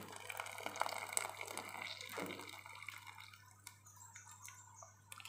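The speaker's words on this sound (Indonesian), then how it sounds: "Kita tiriskan dalam wadah." Steamed cenil, a chewy cassava-starch snack, being drained into a container, with water dripping and trickling close by over a low steady hum, tapering to scattered faint drips.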